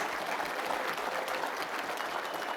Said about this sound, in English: I want to hear a loud round of applause for everybody in this room